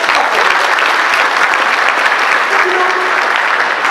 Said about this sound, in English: Clap for the Lord for all of you here.